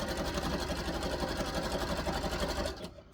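A sewing machine stitches elastic onto wrestling tights in a steady, rapid run that hums close by, then stops abruptly just before the end.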